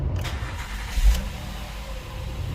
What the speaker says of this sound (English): turn on the engine, and let the RPM set on 1500